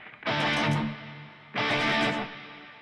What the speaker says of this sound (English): with the foot switch C, I can change the length of my reverb